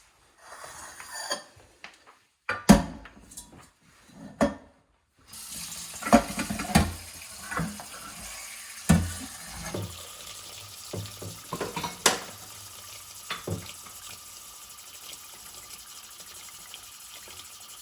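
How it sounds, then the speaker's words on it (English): Water poured into a compost container of jalapeno scraps during sauce making, with splashing and running water in bursts, some clattering handling noises and stretches of quieter trickling. "Put enough water in it to cover everything."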